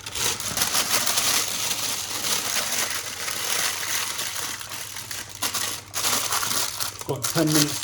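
Baking paper being crumpled and handled for lining a loaf tin for banana bread, a dense continuous crinkling close by that runs steadily for several seconds, briefly easing before a final burst, with a voice speaking underneath.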